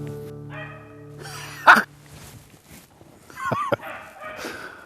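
Dog in the field during a traditional rabbit hunt, giving a few sharp barks and yips outdoors at moderate distance, with quiet gaps and faint background noise between the calls.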